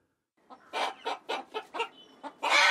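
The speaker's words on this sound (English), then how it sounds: "Chickens." A chicken clucks in a quick series of about eight short, close, fairly loud clucks with brief gaps, ending in a louder squawk.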